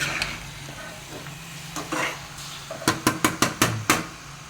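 A ladle stirs mutton masala in a pot over low frying sizzle, ending in a burst of six sharp metallic knocks of the ladle against the pot's rim, close by.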